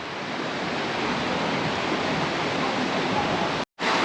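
A waterfall in Langkawi roars in a dense, steady rush of falling water, loud and close, with a brief cut near the end.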